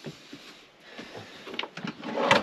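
Kitchen drawers in a 2022 Robeta campervan slide open and shut. Quiet sliding scrapes and soft knocks build to a louder clunk at the end.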